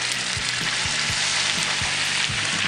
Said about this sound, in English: we are adding our beef roll-ups to the pan and have it nicely golden